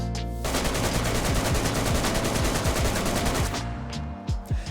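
Sustained rapid automatic gunfire of 7.62x39 rounds hammering a wooden base fence in DayZ, a dense, loud, unbroken rattle that cuts off near the end, leaving a few separate shots.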